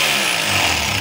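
A DeWalt D25133 rotary hammer drill runs in chipping mode, a loud, steady, rapid hammering buzz with a harsh motor whine that holds unbroken and close for about a second.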